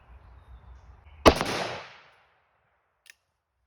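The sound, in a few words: AK556 rifle gunshots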